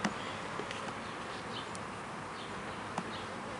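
Honey bee queen out in the grass near the hive, a faint steady buzzing with a few brief louder wingbeat passes, close to the ground and quiet overall.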